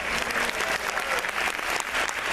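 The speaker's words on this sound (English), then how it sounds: "Y'all give another strong round of applause" Dense, steady audience applause at a community gathering, loud and sustained throughout with no voices rising above it.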